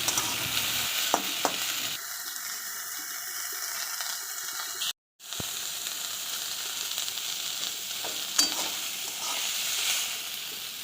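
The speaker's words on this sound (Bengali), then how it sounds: "নুন দেওয়ার পরে ভালো করে নাড়িয়ে চাড়িয়ে নিচ্ছি" Potatoes, onions and tomato frying with salt in a pan are stirred and turned, giving a continuous close sizzle with scraping spoon strokes, briefly cut out for a moment midway.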